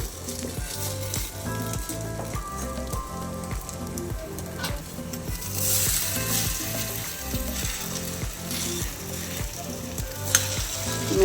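Egg vegetable bread fries in a pan, a loud, continuous sizzle with a regular pulsing rhythm and occasional stirring or scraping, close up and uninterrupted, no one speaking.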